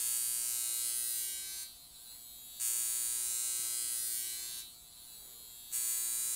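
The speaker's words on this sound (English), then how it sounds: "Pure Daily New Derma wand. It's a high frequency wand." A high-frequency derma wand used on the scalp buzzes steadily and electrically, with two short drops where contact eases, close and alone.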